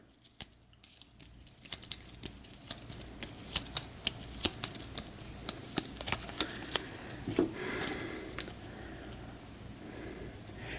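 A deck of cards shuffled during an Eldritch Horror board game, a run of crisp riffling snaps and soft flutters, close and fairly quiet with no talking.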